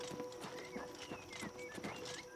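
A bay horse's hooves clip-clop in a steady, rhythmic gait in the video game Oblivion Remastered, quiet and close, with faint tonal game sounds behind.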